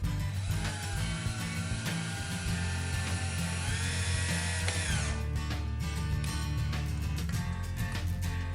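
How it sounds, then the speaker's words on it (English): A power drill bores a pilot hole into wood. The motor whines loud and continuous at close range for about five seconds, then gives way to lower grinding and clicking mechanical sounds. "drill a hole that's a little bit smaller than the screw"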